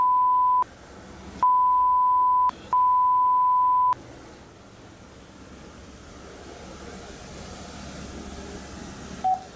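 A mobile phone dialing in Japan, three loud, steady electronic beeps of about a second each with short gaps, followed by a quiet hiss and one brief faint tone near the end.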